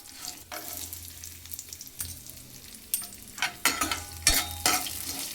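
Onions frying in oil with hing, with spatula stirs scraping the pan over a low steady sizzle, the strokes growing louder and more frequent toward the end.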